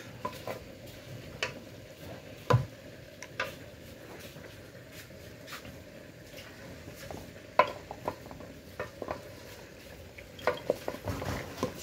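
Potatoes stir-fried with chicken and lentils for khichuri, heard as soft intermittent spoon scrapes and knocks against the pot over a quiet bubbling hiss, with louder clacks at irregular intervals.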